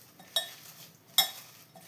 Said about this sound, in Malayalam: ഇനി ഇത് കൈ വെച്ച് നന്നായി തന്നെ ഒന്ന് മിക്സ് ചെയ്തെടുക്കണം